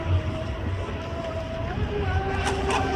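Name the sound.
Proboat Sonic Wake fast electric RC boat running on water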